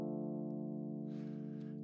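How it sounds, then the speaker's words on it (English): A single minor triad chord sounds on piano keys and rings steadily and alone for the whole stretch, with a faint hiss of noise rising near the end. "A minor triad, the middle note moves down one."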